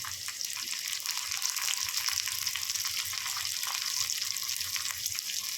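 Mustard seeds, green chillies and curry leaves fry in oil for a quick cauliflower fry, making a soft, even crackling sizzle that holds steady throughout, faint and unaccompanied by speech.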